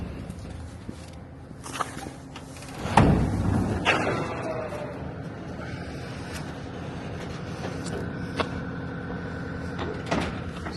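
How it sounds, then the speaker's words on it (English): A large farm barn door slides and rumbles open with a loud scrape and clatter partway through, among scattered footsteps, knocks and the hum of a warming tractor in the background. "get this door opened up here."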